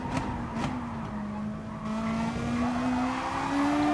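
A Gr3 race car in Gran Turismo Sport at Bathurst, its engine note climbing steadily through the revs with a thin tire squeal, close and continuous with no talk.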